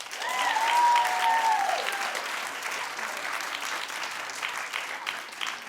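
A television studio audience breaks into hearty applause that peaks in the first second and then continues as a steady, dense clatter of many hands. A short vocal whoop rises over the clapping at the start.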